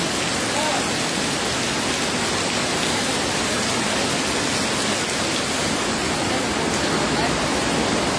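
Heavy rain pouring down around a newly built, flooded bridge, a dense unbroken roar of water at close range filling the whole stretch, with a voice faintly beneath it.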